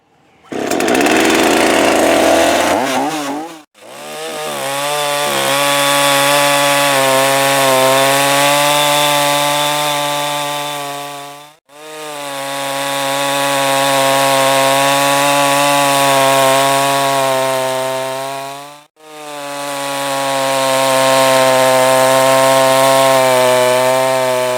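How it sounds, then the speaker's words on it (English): A Makita EA4300F chainsaw cutting wood, loud and close, running in three long sustained bursts with a steady buzzing whine that dips briefly between cuts. "I'm going to pull that Makita out again and see whether or not it fires up easy and does one more test"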